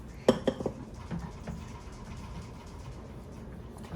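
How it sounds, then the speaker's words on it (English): Banana bread batter mixed in a bowl for a super soft loaf, with a few sharp clinks of utensil against the bowl near the start, then quieter steady stirring scrapes. "And now I'm going to mix."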